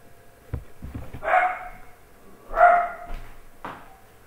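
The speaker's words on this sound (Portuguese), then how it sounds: "o cachorro não para" A dog barks in loud, separate bursts indoors, about three woofs spaced a second or more apart, with some thumps and shuffling between them.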